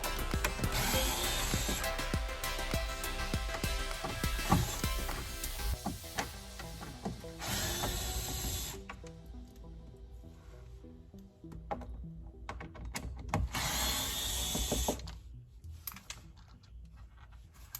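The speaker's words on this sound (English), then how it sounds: "Once that's unplugged, take out the screws." Screws being backed out of a speaker unit with a ratcheting driver, the clicking ratchet running in bursts alongside mechanical handling noises, close and fairly steady, with no talking.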